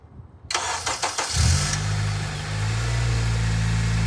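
A 2010 Honda Civic Si engine is started right after an oil and filter change: a short starter crank, then the engine catches with a loud rev and settles into a steady idle, close up.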